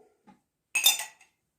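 A single short scrape of a spoon clinks against a jar as the last of the jam is emptied into a bowl for a galette des rois, quick and close in an otherwise quiet moment.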